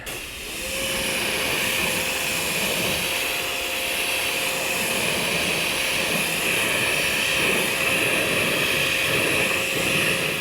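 A car being rinsed with water during an exterior detail gives a steady, continuous broadband hiss of spraying water that starts after a moment and holds evenly, close by and loud.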